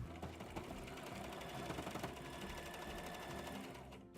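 A sewing machine runs continuously, stitching a dress top onto a skirt, its steady rapid mechanical whir close but quiet.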